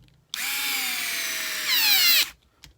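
Under a hand tool, a screw drives tightly into plastic on a Losi 8ight-X RC car, giving one continuous squealing, drill-like whine that rises slightly in pitch near the end, close and clear.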